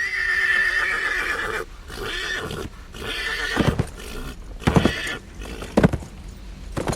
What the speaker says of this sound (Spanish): Un caballo, en un súbito revuelo, cayó y pateó con ferocidad.